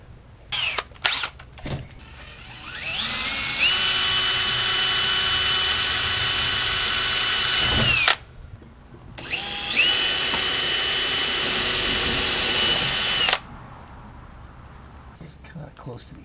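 Two long bursts of a high-pitched power drill whining steadily, each several seconds, separated by a short pause, with brief handling noises around them.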